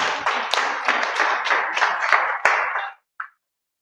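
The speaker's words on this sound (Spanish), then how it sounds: "vamos a darle un fuerte aplauso a nuestros hermanos que se conectan en las redes sociales" A church congregation claps loudly for members connected over social media, a dense burst of applause with a few sharp individual claps, stopping abruptly near the end followed by one faint tap.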